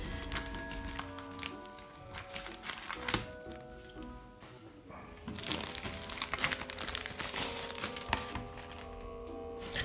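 A postal letter envelope being torn open and handled, giving close, irregular paper crinkling and crackling that comes in bursts across the stretch, with no talking.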